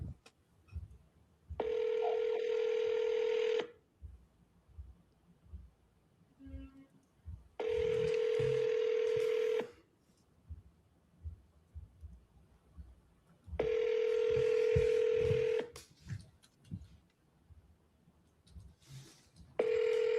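Phone tones sound during calls to property sellers about a foreclosure house, in three long steady bursts with quiet gaps between them and no talking over them.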